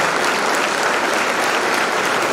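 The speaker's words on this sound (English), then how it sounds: "I want the whole crowd to give a great deal of applause to the Xenokratez." A large crowd applauds steadily at a pharmacy college celebration during National Pharmacy Week in Ooty, a dense and loud wash of clapping that holds an even level throughout.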